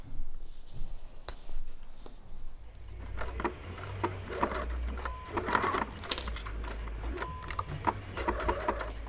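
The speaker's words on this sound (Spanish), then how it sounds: "puedes hacer por ejemplo un zigzag para que quede bien pulidito y esto no se vaya deshaciendo" A sewing machine stitches fabric for a ukulele or guitar strap with a steady, faint mechanical patter and whir after a quieter start, heard close with no speech.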